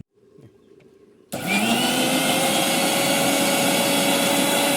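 An electric blender roars loud and steady as it grinds boiled banana flower for fritters, kicking in suddenly after a faint lead-in and running without a break to the end.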